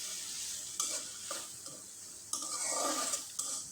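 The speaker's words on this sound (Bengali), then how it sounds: "সামান্য একটু জল অ্যাড করে দিয়ে মশলাটাকে কিছুক্ষণ একটু কষে নিলাম" Spices with a splash of water stir-fried in a pan, a low bubbling sizzle punctuated by several sharp scrapes and taps of a spatula against the pan, close and alone.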